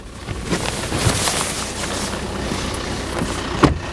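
Volvo XC60 engine running, heard from outside the car: a steady low hum under broadband wind and outdoor noise, with a few brief knocks.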